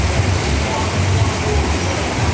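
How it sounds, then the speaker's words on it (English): Heavy night rain pours steadily onto a street in Thailand, a loud, continuous hiss and patter with no break across the whole stretch. "It's still raining like hard, as you can see."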